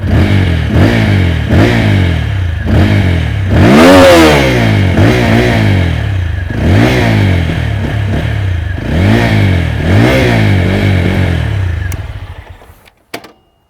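A 2020 TVS Apache RTR 200 4V BS6 200cc motorcycle revs repeatedly at mid revs, with a close, loud exhaust rising and falling in steady blips before the engine cuts off near the end.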